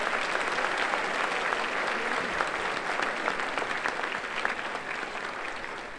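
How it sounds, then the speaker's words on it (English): An audience at an alumni hall of fame ceremony applauds the Miami Big Sound Orchestra, with dense, sustained clapping that stays full and even throughout. "How about a big warm round of applause for our musicians, the Miami Big Sound Orchestra."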